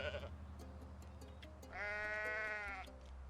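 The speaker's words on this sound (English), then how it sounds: "Yeah, I can summon like goats, I guess." Goats bleat in the Me Simulator video game, a short quiet call followed by a longer, louder wavering bleat standing out clearly on its own.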